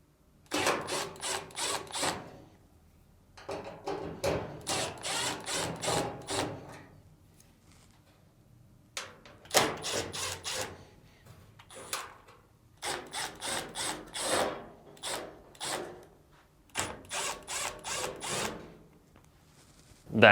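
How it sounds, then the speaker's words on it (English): Screws being backed out of the upper frame plate on a Samsung dryer during heating element replacement, heard as repeated bursts of buzzing driver and rattling metal separated by short pauses, close and fairly loud. "Next, remove the screws on the upper frame plate."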